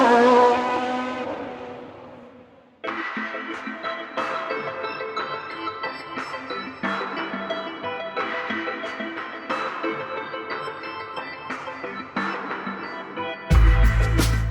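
Very fast cars racing: one engine note fades away, then a run of sharp, loud engine bursts and revs follows in quick succession, ending in a heavy low rumble.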